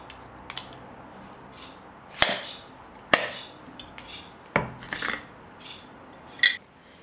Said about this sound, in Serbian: otvorila sam teglu i sad ću sipati u tanjir